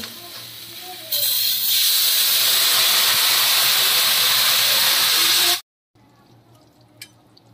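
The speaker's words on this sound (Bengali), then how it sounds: "আমার ভালো করে কষানো হয়ে গেছে, এবার আমি জল দিয়ে দেবো" Water poured into a hot pan of fish and taro curry bursts into a loud, steady sizzling hiss that holds for several seconds, then cuts off abruptly, leaving a quiet kitchen with faint background sounds.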